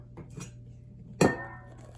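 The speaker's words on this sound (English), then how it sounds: "and add my hot water" Hot water poured over herbal tea leaves in a cup, a short sharp splash and clink that settles into a faint trickle, close and without talk.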